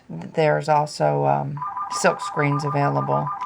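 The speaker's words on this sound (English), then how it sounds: "I apologize about the phone ringing." A telephone rings in an indoor room, a steady electronic ring tone lasting a couple of seconds that cuts in over a person talking nearby, with speech continuing through and around it.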